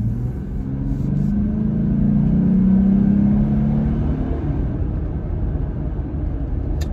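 A Jeep Gladiator's engine and exhaust, fitted with an S&B cold air intake, give a steady low rumble while driving, swelling slightly in the middle and then settling. No one speaks.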